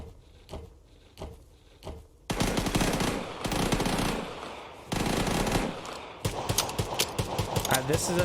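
Rapid bursts of gunfire from the Vigor video game on Switch, loud sharp shots in a close sequence of tap-fired rounds with brief gaps, some heavier clusters near the end.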